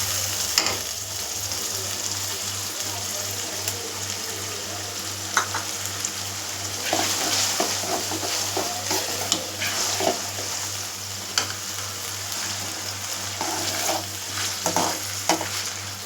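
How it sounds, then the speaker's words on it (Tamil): Onion and ground medium tomatoes sautéing in a pan, a steady close sizzle with scattered clicks and scrapes of stirring throughout, no voices. "இப்போ வெங்காயம் தக்காளி பச்சை வாடை போகிற வரைக்கும் வதங்கி வரட்டும்"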